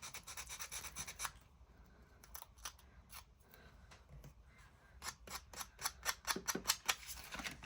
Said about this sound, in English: sand over it so it blends in